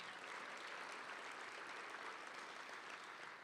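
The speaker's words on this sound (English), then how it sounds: "Let's give these impressive students a big round of applause." Steady applause from an audience at a county education event honoring students, a dense, even wash of clapping that holds at constant strength throughout with no voices over it.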